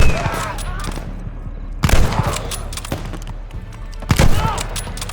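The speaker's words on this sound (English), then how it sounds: "Open fire! Take them down!" Gunfire in Call of Duty Vanguard's 1944 Merville battle, with loud close rifle and machine-gun bursts and sharp shots repeating over a rumbling background, while voices shout orders underneath.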